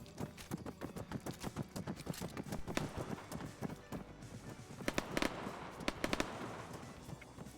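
Blank ammunition fired in a military video game set during Livonian wargames, a rapid series of sharp cracks in uneven bursts, some shots louder and closer near the end.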